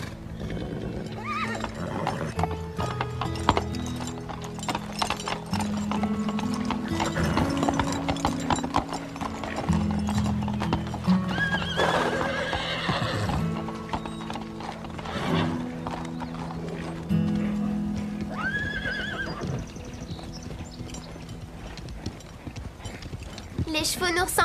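Horses whinny and neigh amid steady clip-clopping hooves at a riding stable, with several loud neighs rising over the hoofbeats and people talking now and then.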